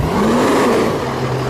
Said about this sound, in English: This guy's revving his truck.